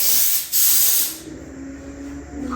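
Cooking spray is pressurized and hisses onto a pan in two close, loud bursts lasting about a second in total, followed by a quieter background with a faint hum.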